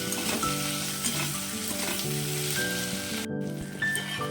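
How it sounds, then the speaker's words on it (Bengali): Chopped tomatoes frying in a pan and being stirred, a dense close sizzle with scraping stir sounds throughout and no voices. "কেটে রাখা টমেটো দিয়ে দেবো ভালো করে নাচতে থাকবো"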